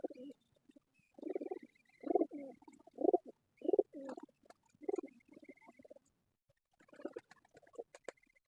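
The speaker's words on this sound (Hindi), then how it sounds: "ये टैडी कबूतर है" Teddy pigeons, a fancy breed, cooing in a series of low, throaty murmuring calls at close range, with soft rhythmic bursts and brief pauses between them, a few faint chirps in the background.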